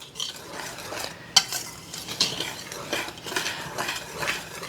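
A utensil stirs sugar and cocoa powder together in a bowl for brownies, giving soft, steady scraping and clinking sounds with a sharper tap or two, close and fairly quiet.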